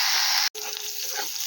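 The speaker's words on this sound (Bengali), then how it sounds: "দেখো করলাটা আলুতে ভাজছি।" Bitter gourd frying with potatoes in a pan makes a loud, close, steady sizzle, broken by a brief cut before the crackle resumes.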